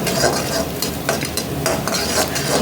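Egg frying and being stirred in a pan before onions and noodles go in for hotel-style chicken noodles: a continuous close sizzle with brisk spatula scrapes and stirring strokes throughout.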